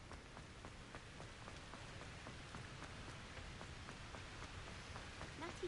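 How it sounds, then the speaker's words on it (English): Rain falls steadily in the video game Hogwarts Legacy, a faint continuous patter with scattered distinct drop taps throughout, calm and even with no voices. "It's raining."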